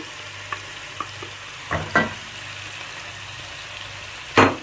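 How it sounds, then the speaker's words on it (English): Chicken with garlic and ginger fries in a pot for a Kienyeji chicken stew, a soft steady sizzle under a few scattered spoon scrapes and knocks, one sharper clatter near the end. "I will put in my chicken together with all this garlic and ginger."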